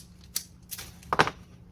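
A 1999 Volvo S70 flip key's cut blade springs open with a few short, crisp mechanical clicks and snaps, close up in a quiet room.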